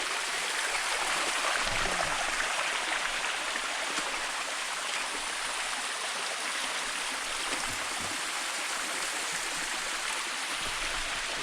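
A forest waterfall along a jungle stream rushes in a steady, loud, broadband roar of falling water that holds evenly throughout, with no voices.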